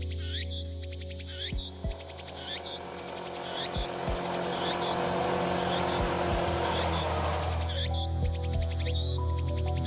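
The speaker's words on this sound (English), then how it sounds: "A motorcycle passes by outside the window." A motorcycle passes outside a window, its broad rumble swelling mid-clip and fading, with cicadas chirping steadily throughout and occasional low thumps.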